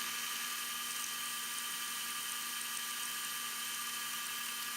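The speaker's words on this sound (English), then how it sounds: "Here I'm starting to work the tapers together, the taper in the brass and the taper on the steel point." An Atlas lathe cutting tapers in brass and on a steel point gives a steady, high machine whine with a constant hum underneath, droning on evenly without pause or voices.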